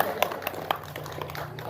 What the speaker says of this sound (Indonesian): Ya semuanya teman-teman tepuk tangan aja ya